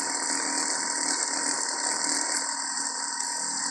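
A rotoverter motor runs at 24 volts, about 2376 RPM, giving a steady, loud mechanical whir with a faint ratcheting texture that holds unchanged throughout, with no voices.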